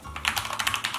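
Fast typing on a Corsair K65 RGB Mini 60% wired mechanical keyboard, close and clear, a quick run of crisp clacky keystrokes with no talk.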